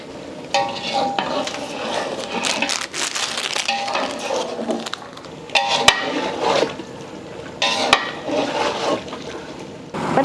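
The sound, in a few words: water poured into cooking pot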